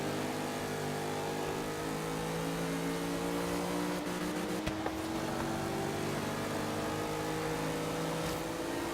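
A 1955 Chevy engine revs in the Forza Horizon 3 racing game, a sustained mid-pitched drone with steady tonal harmonics and a brief shift in the middle, fairly quiet and without talk.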